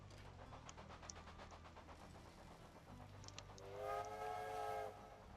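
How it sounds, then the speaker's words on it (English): Freight train in the railway strategy game Railway Empire, a quiet, steady chugging rumble with a rhythmic pulse, and a long whistle sounding near the end. "There we are, this train looks like a freighter."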